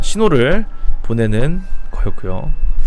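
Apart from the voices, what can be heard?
No distinct noise like a dog, phone or traffic.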